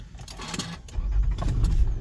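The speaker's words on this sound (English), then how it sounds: "I have to turn on the car." A car engine starts up: light clicks and rustles, then a low rumble swells and settles into a steady idle close by.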